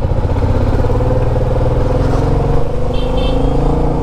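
Dense traffic jam on a road in Shillong, Meghalaya: a steady, loud rumble of idling and slowly moving car and motorbike engines fills the whole stretch, with a brief high horn-like tone near the end.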